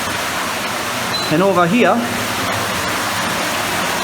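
Water rushing steadily down into a large sump inside an abandoned 1700s mine cavern, a constant broadband wash that fills the space, with someone briefly speaking over it.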